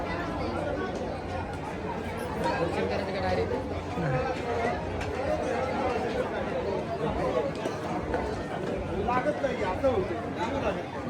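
Crowd chatter fills a temple darshan queue: many voices overlap in a steady, close hubbub with people talking nearby throughout.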